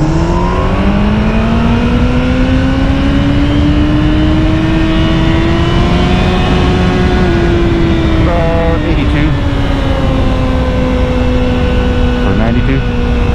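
A Kawasaki ZX-14R motorcycle accelerates hard in first gear at night, its engine note climbing steadily in pitch over a long, loud pull with wind roar, then a short dip and rise near the end as the revs are held.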